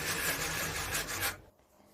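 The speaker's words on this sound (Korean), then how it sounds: "고온 사포를 사포 작업을 해서 자기의 표면이 너무 거칠지 않도록 살짝 다듬어 줄게요" Sandpaper rubs across the surface of an old paulownia wood cabinet being refinished: a close, dense rasping scrub lasting just over a second, then it stops abruptly.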